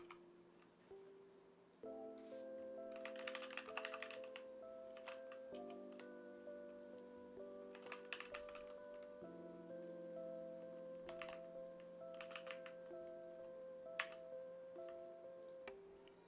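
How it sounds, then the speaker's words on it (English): Quiet bursts of key clicks from typing on a computer keyboard come in several short clusters over a steady tonal hum in the background. "The typing is killing me. My keyboard doesn't like me."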